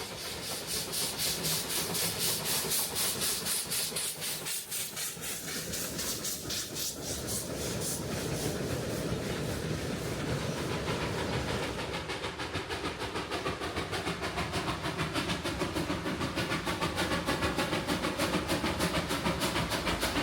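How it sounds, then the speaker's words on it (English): A Puffing Billy steam locomotive, 6A, chuffs in a rapid, steady beat with loud hissing and rumbling, hauling a load test train from Belgrave to Gembrook continuously and close by. "This is Puffing Billy Locomotive 6A hauling a load test train from Belgrave to Gembrook"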